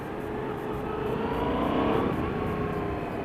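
A 2016 Yamaha FZ-07 motorcycle rides along during a group demo ride, its engine and wind noise forming a steady, loud broadband roar that swells slightly midway, with no talking.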